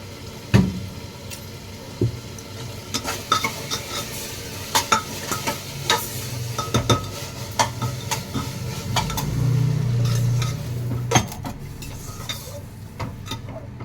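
Mixed dal being stirred in a pot on the stove, with scattered scraping and clinking strokes of a spoon and a soft sizzling bubble underneath, fairly close and with no talking.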